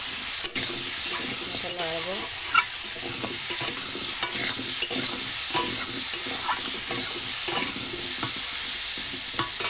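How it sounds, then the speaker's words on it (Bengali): Potatoes fry in oil with cumin and turmeric in a village kitchen, as a base for katla fish curry; loud, busy stirring scrapes and knocks sound over a constant sizzling hiss. "মাছের ঝোলটা তেলে পরে দিয়ে দিলাম জিরে দিয়ে এখন আলুটা দিয়ে দিলাম"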